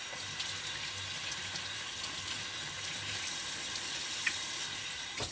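Cold Vermont tap water runs steadily from a kitchen faucet as fingers are rinsed while cooking a spaghetti casserole, a continuous close splashing hiss with no talk.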